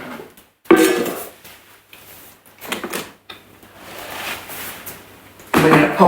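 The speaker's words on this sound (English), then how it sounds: "we're going to remove the simmering basket." The simmering basket of a Thermomix is lifted out after cooking chicken and rice, making a few loud, close metallic clatters and knocks separated by quieter gaps.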